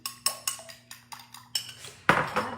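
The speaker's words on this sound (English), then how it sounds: "I want to scramble up my egg, break it up, whisk it real good" An egg being whisked in a bowl: a series of sharp utensil strikes against the bowl, roughly every quarter to half second, ending in a louder scraping burst, close and alone.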